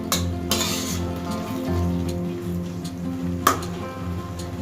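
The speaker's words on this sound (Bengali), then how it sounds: "এবার 1-2 মিনিট আরেকটু আমি কষিয়ে নেবো দইটার সাথে" Masala being sautéed with yogurt in a pan over a gas flame, a soft steady sizzle with spoon scrapes and a couple of sharp clinks against the pan, close by.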